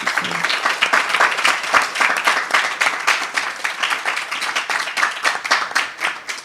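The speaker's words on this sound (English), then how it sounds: "So please give them a big round of applause." Audience applause after a spiritual program, many hands clapping in a lively, uneven patter that stays loud and close for several seconds without talk.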